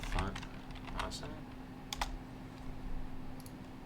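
Rapid keystrokes on a computer keyboard while a web address and a search term are typed, a close clatter of clicks in bursts with a few louder taps, over a steady low hum.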